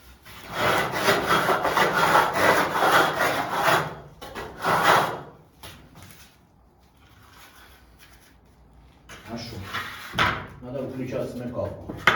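Steady back-and-forth rasping of a hand saw cutting wood, loud and close, pausing briefly before resuming strokes with some background voice.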